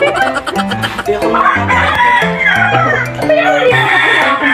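Chickens cluck and crow loudly and up close in a busy farmyard flock, with overlapping calls and rooster crows over the whole stretch, carrying no clear speech.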